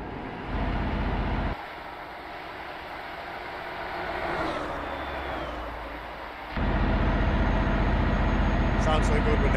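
Traffic passes by in Euro Truck Simulator 2 on a 43 mph road. There is a steady engine and road drone with a swelling whoosh as vehicles go past, and the level shifts abruptly in sections.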